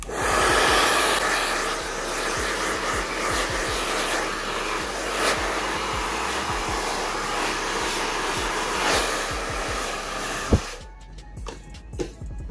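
Hair dryer blowing on a client's hair during a barbershop styling session, a loud, steady close-up whoosh with faint handling clicks, cutting off abruptly near the end.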